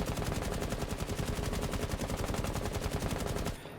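Automatic rifle fire in Rainbow Six Siege rattles in one rapid, continuous burst of closely packed shots for about three and a half seconds, loud and up close, then cuts off abruptly.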